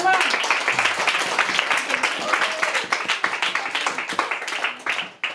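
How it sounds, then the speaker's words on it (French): An audience at an orphanage gathering breaks into applause, a steady patter of clapping that continues throughout and slowly thins toward the end, heard at moderate distance. "Applaudissements."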